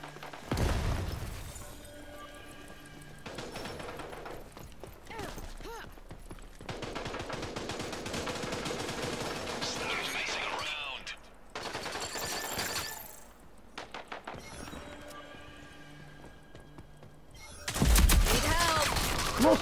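Heavy machine gun fire in the shooter game Rogue Company, with repeated bursts of rapid shots and booming impacts running through most of the stretch and a louder blast near the end, while a voice talks faintly.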